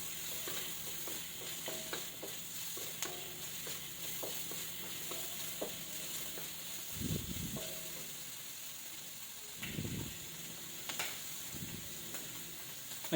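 Chopped garlic stir-fried in a pan for stir-fried Baguio beans, giving a steady soft sizzle with scattered utensil scrapes and a few louder low stirring thumps, close and fairly quiet, with no talk.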